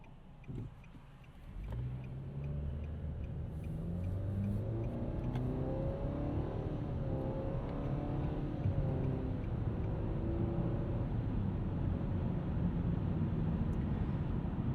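A 2025 Nissan Sentra S with a CVT accelerates steadily, its engine drone rising smoothly and continuously in pitch without gear steps, with road and cabin noise from inside the light compact car on a morning commute.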